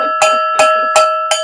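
A cowbell struck four times in an even, ringing rhythm during a livestream, each hit loud and clanging with a sustained metallic tone between strikes.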